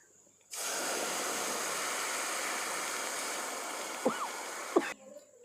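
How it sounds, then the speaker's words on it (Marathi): A steady, loud rushing hiss of water with peanuts at a rolling boil for sabudana kheer fills the scene for several seconds, with a couple of brief clinks near the end. "पाण्याला खळखळ उकळी येऊन द्यायची"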